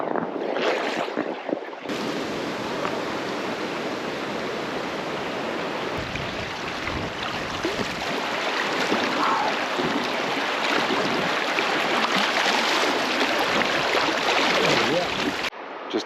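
River water rushes and churns around an inner tube drifting down rapids at a provincial park, a loud, continuous close wash with wind buffeting the microphone.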